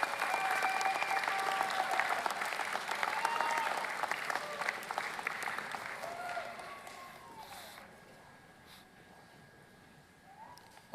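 Architecture and design graduates at a spring commencement stand and applaud their families, with loud mixed clapping and a few voices that gradually thin out and fade to near quiet by the end.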